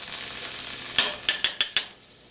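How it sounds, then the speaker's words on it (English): Butter melts in a hot pan with a soft steady sizzle, broken by a handful of sharp spattering pops and clicks before the hiss fades away. "That butter just melted right up."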